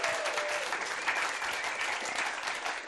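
Live audience at a comedy podcast recorded at the Edinburgh Fringe applauding, a dense, steady burst of clapping that holds at full strength from start to finish.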